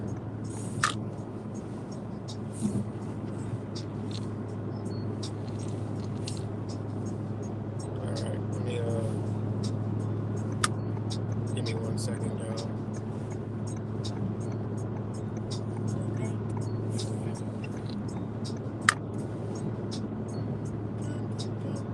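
A car drives along with a constant low engine and road hum inside the cabin, steady throughout with a few faint clicks.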